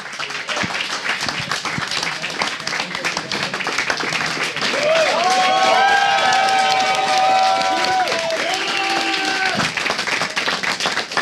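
An enthusiastic crowd at a StarCraft 2 esports match, IEM Cologne, claps and cheers, a dense wash of applause that swells in the middle with rising shouts and whistles before easing off.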